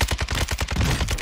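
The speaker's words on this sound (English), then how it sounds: "I'm shooting him through the wall" Steady rapid automatic gunfire in Warzone 2, a fast evenly spaced string of loud close shots with no talking.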